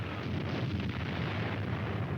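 Massive air and artillery bombardment of the Monte Cassino monastery in Italy, February 1944, heard as a dense, continuous roaring rumble of blasts with heavy low-end boom in an old wartime newsreel recording.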